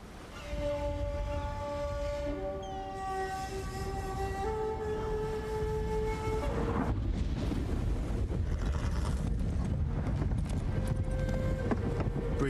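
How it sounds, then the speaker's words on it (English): A horse clip-clops in Ghost of Tsushima's Iki Island expansion while crossing rough seas, its hooves blending into a steady rush of wind and water under sustained tonal game music. "Oh yeah, I named my horse Sora."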